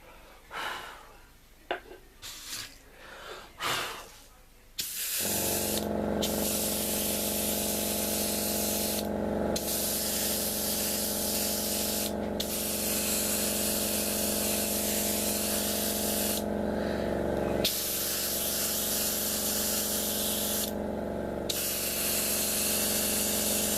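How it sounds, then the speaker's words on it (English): An airbrush or spray can hisses steadily while paint goes onto a Revell plastic model kit of the SMS Dresden and SMS Emden warships. Short puffs and breaths come first, then long continuous bursts broken by a few brief pauses. "So I'm going to spray a little bit on camera"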